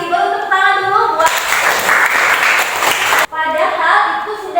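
Classroom applause from students during a civics lesson, a burst of dense clapping lasting about two seconds between stretches of talk, fairly loud and close.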